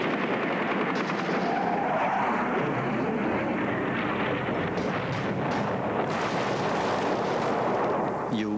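War footage of artillery and gunfire in Cambodia, with dense rumbling blasts and crackling bursts of shots throughout, loud and continuous with a rough, windy texture.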